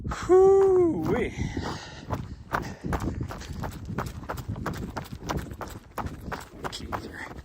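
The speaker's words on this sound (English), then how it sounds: "Keys are bouncing up and down. It's super noisy." Keys bounce and jangle in a steady rapid rhythm while a person runs along an old road-like trail in the morning, the metallic clatter close and continuous.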